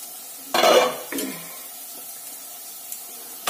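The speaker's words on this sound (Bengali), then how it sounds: "এবার চলো ঢাকাটা খুলে দিই" A lid lifts off a cooking pot of frying potatoes and onions, giving one brief metallic clatter followed by a softer clink and a faint hiss of steam, close by with no talking.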